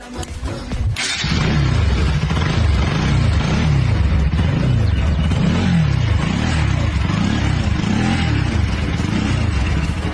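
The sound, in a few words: motorcycle engine starting and idling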